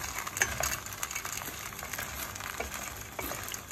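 Water beetles dry-roast in a pan with a soft, crackling sizzle and faint scraping stirs, quiet and close, with no voices.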